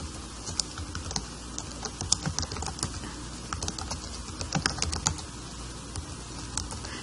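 Typing on a computer keyboard, a steady stream of close, light key clicks in irregular bursts with no voice over it.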